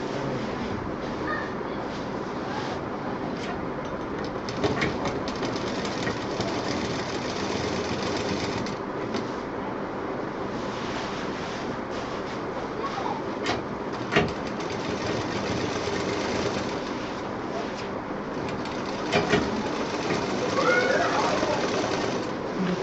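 Sewing machine running in steady, continuous stitching along the seam joint of saree fabric being made into a bed cover, close and fairly loud, with a faint crow calling in the background.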